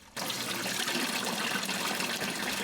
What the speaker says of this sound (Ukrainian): львів'яни зможуть набрати воду також у міських джерелах